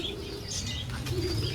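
Pigeons in an aviary give soft, low cooing calls with brief chirps and a flutter of wings, steady and fairly close throughout, with no voices.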